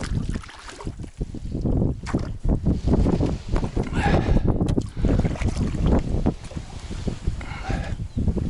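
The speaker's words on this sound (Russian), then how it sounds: "Сильный ветер." Strong wind buffets the microphone outdoors by a river in flood, a steady loud rumbling roar with gusty surges throughout.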